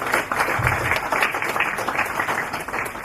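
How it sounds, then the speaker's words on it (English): A crowd at a district football club gathering gives a sustained round of applause, steady and fairly close, with a murmur of voices beneath the clapping. "I think a big round of applause for the presentation."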